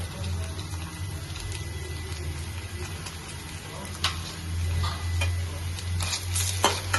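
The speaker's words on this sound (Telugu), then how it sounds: "పచ్చివాసన పోయేంత వరకు వేయించాల" Freshly pounded ginger paste fries in a pan for chicken curry: a low sizzle under a steady hum, broken by occasional clinks and scrapes of stirring.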